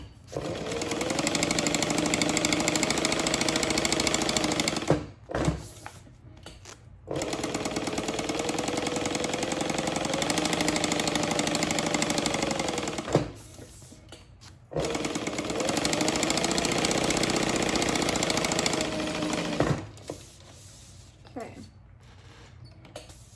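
A sewing machine runs in three long bursts stitching a backpack seam with an eighth-inch allowance along three sides, a steady loud mechanical whir broken by short pauses.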